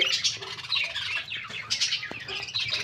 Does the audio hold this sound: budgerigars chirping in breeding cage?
yes